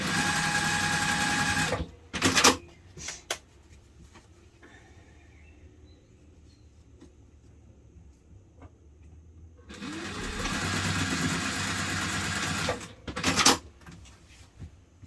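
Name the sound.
sewing machine stitching bag fabric and lining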